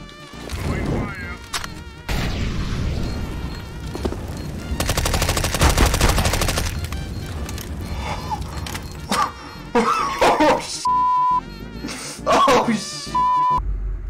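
In the video game CS:GO, an MP5 submachine gun fires in rapid bursts, with a long sustained spray in the middle and shorter clipped bursts later, interleaved with game interface beeps and other game sounds.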